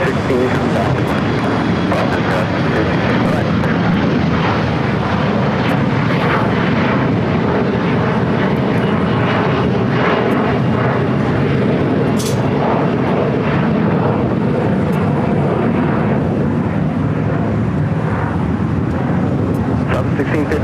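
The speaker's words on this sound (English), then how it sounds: "There's this flight out right now, E175 to San Diego" An Embraer E175 jet airliner departs LAX, its engines giving a loud, sustained roar that holds steady throughout, with talk mixed in.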